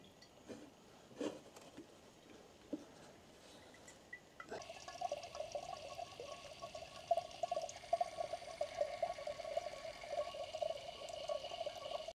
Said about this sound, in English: turn on the water to see if we can start pressing